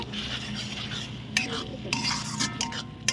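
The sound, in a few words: stirring fried masala after adding a little water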